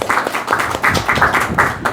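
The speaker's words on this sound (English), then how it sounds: "let's have a huge round of applause for all our participants" A huge round of applause for the participants of a special anchoring training session, dense clapping from a sizeable audience filling the whole moment, steady and loud with a few voices mixed in.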